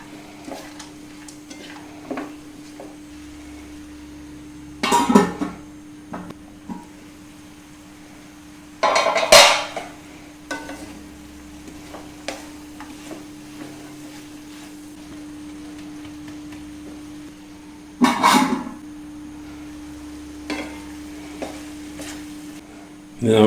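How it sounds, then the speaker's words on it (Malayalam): A beetroot stir-fry in a pan gets stirred after fried coconut is tipped in, bringing a low, steady sizzle and a few sharp scraping and clinking strokes of the spoon against the pan spread through the stretch, with no talking. "ഇതിലേക്ക് നമ്മൾ ആ വറുത്ത് വെച്ചിരിക്കുന്ന തേങ്ങ അവിടെ ഇടും"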